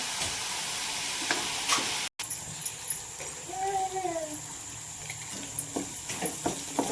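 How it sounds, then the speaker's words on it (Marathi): Masala paste made from onion and tomato gravy frying in oil in a home kitchen, with steady sizzling and scraping stirs, a brief dropout partway through and a short tonal whistle-like sound midway. "वाटण चांगलं ना तेलात अगदी परतून घ्यायचं कच्चेपणा नाहीस होईपर्यंत"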